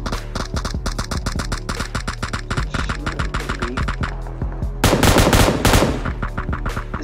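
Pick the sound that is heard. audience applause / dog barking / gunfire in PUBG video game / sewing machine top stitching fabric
gunfire in PUBG video game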